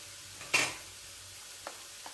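Spices tipped into a hot frying pan, a sudden sharp hiss of sizzling that quickly fades, followed by two faint scrape-like stirring taps over a low background of frying.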